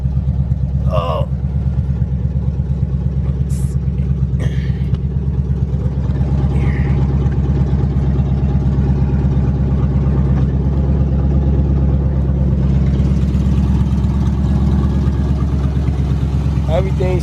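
A 1992 third-generation Chevrolet Camaro engine idling steadily at close range, a loud continuous low rumble with faint clicks and rustles over it.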